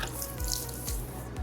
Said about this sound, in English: I'm gonna rinse that dirt away